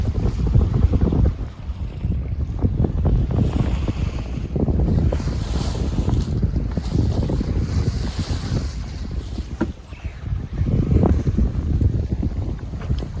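Strong offshore wind buffets a sailboat in about 10 knots of breeze, a loud, steady roar with gusty swells and rushing water underneath. No one speaks over it.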